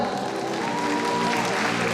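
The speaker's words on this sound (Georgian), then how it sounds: "კიდევ ერთხელ ტაში მათ" Audience applause for children performing at a Georgian song contest and festival, a dense, steady wash of clapping that fills both seconds at even loudness, with no voices over it.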